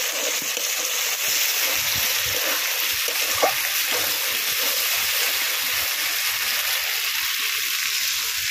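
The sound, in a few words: water poured into fried spice paste in a pan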